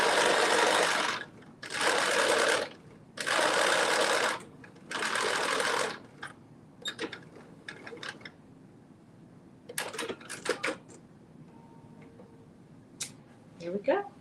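Sewing machine top stitching a hem on a sleeve, four loud whirring bursts of about a second each, then scattered clicks and fabric handling noises close by.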